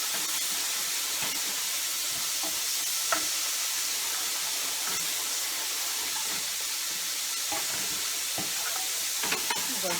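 Flour and onions cooking into a roux in a pan for gravy give a steady broadband sizzle, with occasional scrapes and taps of a utensil stirring throughout; no one speaks.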